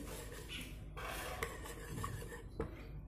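A spoon stirs bael sherbet with added salt in a bowl, scraping and clinking against the sides in an irregular rhythm, close and fairly loud, with no talk.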